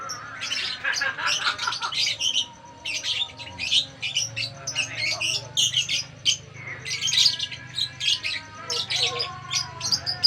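Many birds at a plant nursery on Jalan Shah Kuala chirp, tweet and squawk almost without pause, a busy overlapping chorus of sharp calls over a low background hum, fairly close and steady throughout.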